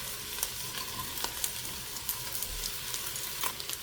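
Browned hamburger with carrots and celery frying in a pot, giving a steady, moderately quiet sizzle with scattered small crackles throughout and no voices.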